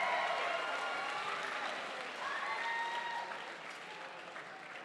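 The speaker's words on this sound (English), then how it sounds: "join with me in a massive round of applause" Sustained audience applause fills an arena after a five-round women's Muay Thai bout, a dense steady clatter of many hands that holds loud throughout and tapers slightly toward the end.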